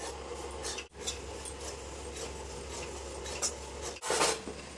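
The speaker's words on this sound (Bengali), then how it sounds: "এই সুজিটা আমি হালকা করে ভেজে নেব, কোনো তেল বা ঘি ছাড়া আমি ভেজে নেব।" Continuous dry scraping and rasping of a utensil against a wok while semolina dry-roasts without oil or ghee, steady and close, with a couple of brief pauses and a louder scrape near the end.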